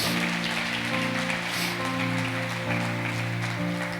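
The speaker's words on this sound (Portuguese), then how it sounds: "Dê uma salva de palmas a Jesus por isso." A church congregation claps in praise of Jesus, a wash of applause spread under sustained keyboard-like tones that shift pitch now and then.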